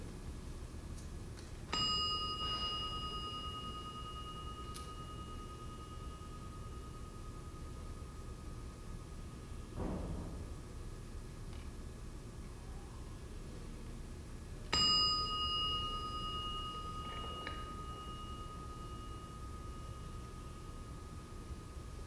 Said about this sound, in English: as you listen to this bell.